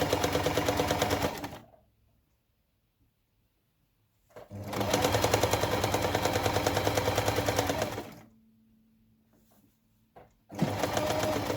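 A sewing machine chain-pieces patchwork quilt squares in loud, rapid mechanical bursts of stitching, three separate runs broken by quiet pauses with a faint low hum.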